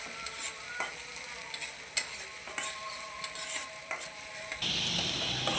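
Onion and garlic frying in oil for a Bengali leafy greens dish, a steady close sizzle broken by scraping stirs and clicks of a spatula, turning louder and hissier toward the end.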